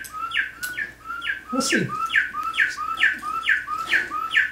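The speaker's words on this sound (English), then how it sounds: "There's the bird clock." A bird clock chimes with recorded birdsong in a luthier's workshop, a steady string of bright repeated chirps, loud and close, while someone briefly speaks partway through.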